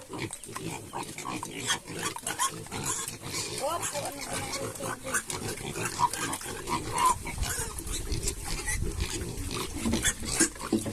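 Pigs grunt and snuffle at close range amid rustling and shuffling noises, with people talking faintly in the background.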